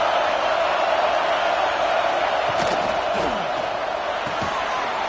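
A steady, loud roar of a college football stadium crowd in a Texas at Michigan video game, continuous throughout with faint whistles and cheers rising within the wash of noise.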